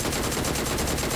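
Rapid, loud video game gunfire in a fast, even rhythm of close-range shots fills the whole brief moment.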